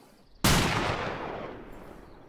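A single loud gunshot from a period firearm in a Wild West video game cracks sharply, then rolls off in a long, echoing decay with no talking.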